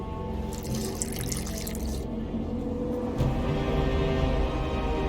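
Water poured and running in The Witcher 2: Assassins of Kings while mixing burnt lime, a steady splashing, tap-like flow close by, with a brief brighter spray early on and no talking.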